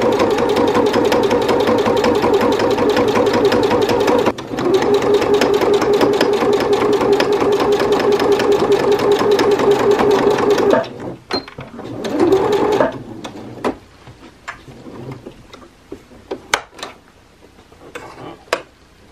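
Sewing machine running a straight plain seam through two pieces of fabric, a steady rapid mechanical chatter for about eleven seconds with a brief hitch midway, then stopping, followed by a short whir and scattered small clicks and handling noises.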